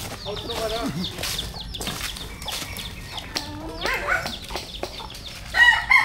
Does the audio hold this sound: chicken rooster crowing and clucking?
yes